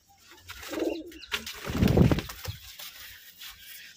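Shah-eyed pigeons coo in several soft, low, rounded bursts, the calls swelling to a loud, close peak midway before fading, with no talking.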